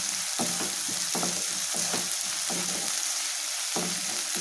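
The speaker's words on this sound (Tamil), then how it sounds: "பொடியாக கட் பண்ண பெரிய வெங்காயம் ரெண்டு சேர்க்குறேங்க. இதையும் நல்லா வதக்கிக்கலாம்." Finely chopped large onions sautéing in a pan for a pigeon pea masala curry, a constant close sizzle with rhythmic spoon scrapes and stirs every half second or so.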